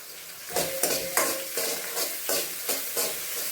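Store-bought ginger garlic paste frying in a pan for capsicum palya, a steady sizzle broken by six or seven scraping stirs at an even pace, close and moderately loud, with no voices.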